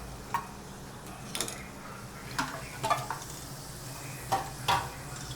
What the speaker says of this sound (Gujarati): તો જો તેલની અંદર સૌથી પહેલાં ડુંગળી, કેપ્સિકમ, મરચાં, ટામેટાં અને કોબીજ નાખી દેવાનું છે।